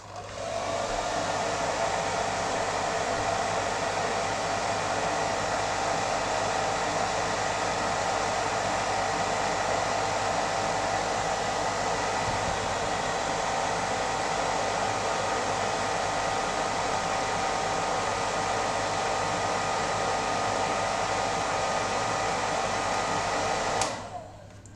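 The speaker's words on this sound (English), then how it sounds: "To prove our sensor, I'm going to use a" A hair dryer blowing steadily onto a temperature sensor, a loud close whooshing roar with a faint whine that holds level for over twenty seconds before cutting off at the end.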